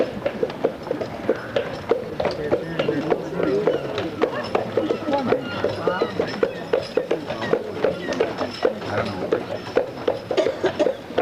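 Hooves of a horse clip-clop steadily along a street on Mackinac Island amid a busy crowd, with people chatting nearby and the horse passing close by.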